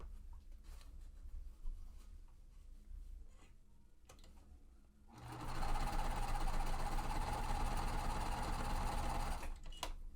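A sewing machine stitching a quilt seam: after a few quiet handling clicks, the motor starts up midway and runs in a steady, close, continuous whir before stopping near the end.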